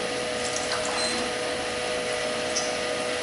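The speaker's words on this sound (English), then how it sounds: "Oh, pump can be turned on now?" A pump hums steadily after being switched on, a continuous whirring drone with a watery, vacuum-like hiss, moderately loud and unbroken, with no talk over it.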